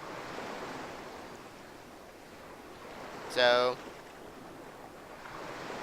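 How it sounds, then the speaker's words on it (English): Steady wash of ocean surf at a beach in a video game, a soft continuous roar throughout, with a short spoken word breaking in near the middle. "Sounds like the beach. Can't you hear the waves?"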